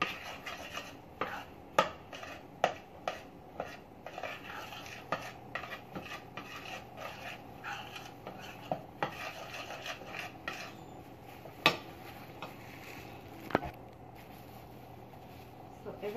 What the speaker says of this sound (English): Make sure you mix it in well so everything combines together